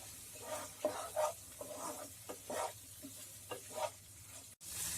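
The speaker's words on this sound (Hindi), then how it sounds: "भेजे के पीसेस को मैंने मसालों के साथ 1 से 2 मिनट के लिए अच्छे से मिक्स कर लिया है" Boiled goat brain pieces are stirred into roasted masala in a pan, quiet sizzling broken by several distinct spatula scrapes and stirring strokes at an uneven rhythm, close and fairly soft.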